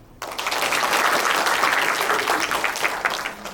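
An audience at the opening ceremony of a national urban farming activists' gathering breaks into applause after a congratulatory address, a sudden burst of many hands clapping steadily and then easing slightly.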